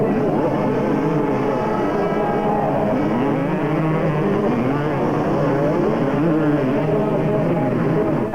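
250cc motocross bikes race in 1998, several engines whining and buzzing together in a continuous, moderately loud drone that shifts in pitch as riders rev and pass, with no clear talk.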